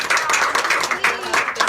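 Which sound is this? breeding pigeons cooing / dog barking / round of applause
round of applause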